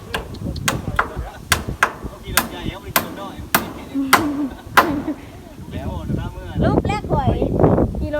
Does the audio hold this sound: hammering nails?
yes